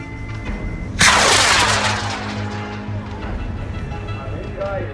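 High-power model rocket on a K1127 motor lifting off at a desert launch range in Argonia, Kansas, a sudden loud roaring blast that fades steadily over several seconds, with people talking and calling out in the background.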